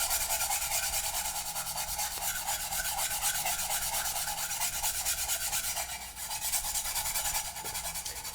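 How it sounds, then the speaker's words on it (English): Steel wool rubs steadily over a surplus steel rifle magazine, a continuous close, bright scratchy rasp with a fast, even back-and-forth texture for over eight seconds, with no voices. "steel wool takes off more material, obviously, but it also leaves scratch marks in the metal"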